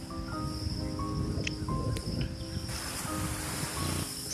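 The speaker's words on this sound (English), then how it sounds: "Sea waves constantly hit on the rock and produce pleasant sounds." Sea waves breaking against rocks on Uppalam Harbour Beach in Puducherry, a steady broadband wash of surf with wind, continuous and fairly close throughout, no voices.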